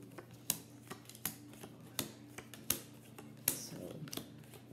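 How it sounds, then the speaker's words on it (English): Playing cards are laid face down one by one in rows on a table, giving a steady series of sharp, close taps about every three-quarters of a second against a quiet background. "you're going to lay cards down in three rows of six"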